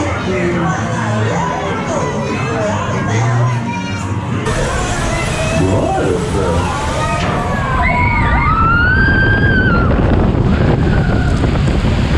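A log boat plunges through Splash Mountain at Magic Kingdom on a hot day, with loud roaring water, heavy wind buffeting the microphone and rushing spray, while riders shout and squeal over the din.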